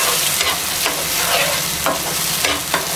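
A spoon stirs ingredients in hot tempering oil for a chutney, sizzling and scraping loudly with steady frying crackle and a few sharper stir strokes, with no voices.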